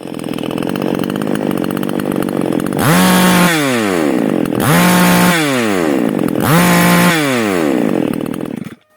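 A Greencut chainsaw, running for the first time after a clutch bearing repair, is revved hard three times in succession. Each loud, close, high-pitched scream winds down before the next burst, and the engine stops at the end.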